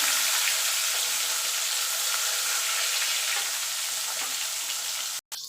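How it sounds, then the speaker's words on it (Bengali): Fish frying in hot oil, a dense, continuous sizzle with faint crackles holding at an even level, broken by a brief dropout just before the end. "এবার আমি এক এক করে মাছগুলো তেলে দিয়ে ভালো করে মাছগুলো ভেজে নেব।"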